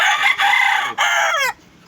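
A rooster crows loudly and close by, one long strained call broken into a few segments, ending abruptly.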